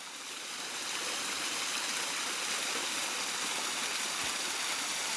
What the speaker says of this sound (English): enjoy this water